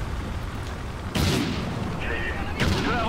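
Gunfire in the shooter Call of Duty Ghosts, a couple of sharp loud shots breaking a quiet background, with talk in the clip.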